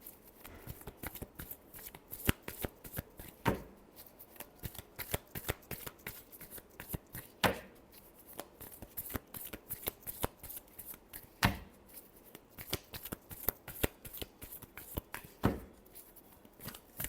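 Tarot cards being shuffled by hand in a steady run of crisp riffles and soft flutters, close and clear, with several sharper card slaps marking the bursts.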